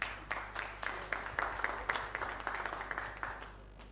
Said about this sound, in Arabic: تصفيق بربي